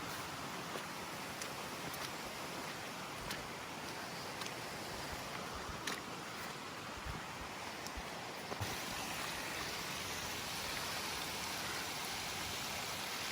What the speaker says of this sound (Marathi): आता पाऊस यायला सुरुवात झालेली